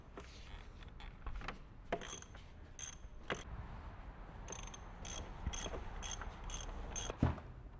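Socket wrench working an oil filter loose on a Bronco, giving a run of soft ratcheting clicks and metallic ticks, close by and fairly quiet with no talking.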